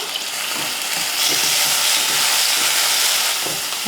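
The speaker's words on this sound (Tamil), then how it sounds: "வெங்காயம் வதக்கிட்டு இது கூட ஒரு தக்காளி போட்டுடலாம்" Onion and tomato fry in oil for crab rasam, giving a loud, steady, close sizzle and hiss that holds throughout, with soft stirring scrapes underneath.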